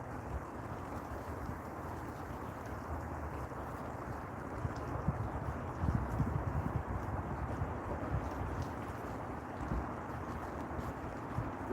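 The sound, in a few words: strong wind gusts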